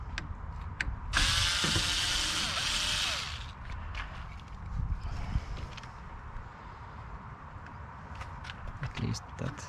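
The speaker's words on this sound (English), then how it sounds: "this is the actuator, and we need to take off more screws." A hand ratchet clicks in bursts while screws are backed out of a door lock actuator on a first-generation Toyota Prius, with a loud broadband rasp early on, scattered tool clatter and someone talking throughout.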